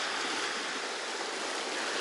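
Sea waves washing against the shore at Odesa, a steady broad hiss of surf with no distinct breaks, close and fairly quiet with no voices.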